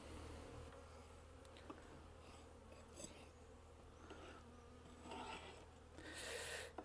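Honey bees buzzing steadily around an opened beehive during an inspection, a dense continuous drone close to the microphone with occasional handling knocks.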